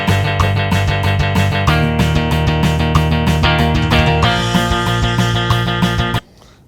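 Distorted electric guitar part playing a steady, dense riff of repeated chords and picked notes, loud and upfront, then cutting off abruptly near the end into near silence.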